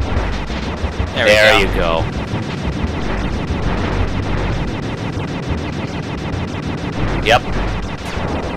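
Rapid game gunfire crackles steadily through Sly 2: Band of Thieves gameplay, a dense continuous stream of shots with a couple of sharper bursts, while a player talks briefly over it.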